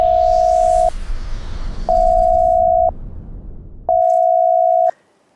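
A telephone ringback tone sounds as a call is placed, three steady one-second beeps separated by roughly one-second pauses, loud and clear with a faint hiss between tones.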